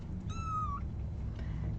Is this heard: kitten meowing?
yes